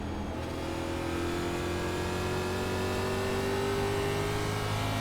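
A NASCAR race car engine drones steadily in the iRacing sim at New Hampshire, its pitch slowly climbing as it pulls out of turn 2 under careful throttle, loud and continuous with no voices.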